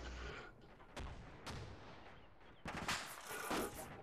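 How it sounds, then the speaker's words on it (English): Heavy gunfire and artillery-like blasts crash through an ARMA 2 battle, several loud booming shots at irregular intervals, ending in a dense rattling burst of fire. "Something big shooting at us."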